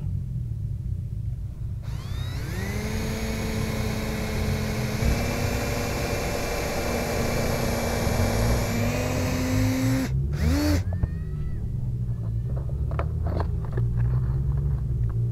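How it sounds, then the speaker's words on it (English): Power drill boring pilot holes while fencing a raised garden bed, a steady rising motor whine running about eight seconds, then stopping abruptly with a brief stutter and lighter knocks afterward, loud and close. "I'm going to make some pilot holes"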